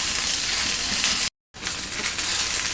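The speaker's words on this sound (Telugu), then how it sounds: "ఇది కొంచెం ఫ్రై అవ్వాలి ఎక్కువ ఏం ఫ్రై అయిపోక్కర్లేదు" Food sizzles and fries in a pan during the making of jowar masala dosa: a loud, continuous hiss that cuts out for a moment and then resumes.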